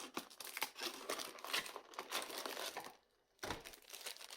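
Foil wrapper of a Shadowverse Princess Connect! Re:Dive trading card pack crinkling and tearing open up close, a steady papery rustle with sharp rips that drops out briefly near the end before resuming.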